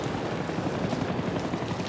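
Firefighting helicopter over a Los Angeles County wildfire, its rotor thudding in a steady rapid chop beneath a continuous engine roar, loud and sustained with no voices.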